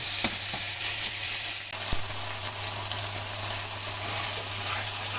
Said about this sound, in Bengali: মশলাটা সুন্দর মতন ভুনা হয়ে গেছে।